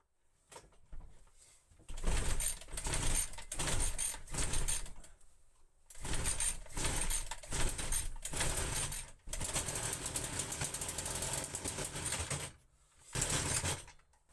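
A Hyundai garden machine engine is cranked repeatedly without catching, giving bursts of rapid mechanical churning separated by short pauses, close and fairly quiet, with no speech.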